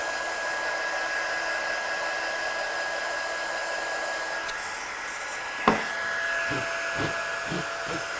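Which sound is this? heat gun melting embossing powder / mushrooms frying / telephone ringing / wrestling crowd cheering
heat gun melting embossing powder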